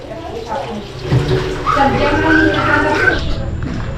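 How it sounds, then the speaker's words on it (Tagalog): Water pours into a pot of suman wrapped in banana leaves, a steady splashing stream under a speaking voice. "Lagyan na po natin ng tubig."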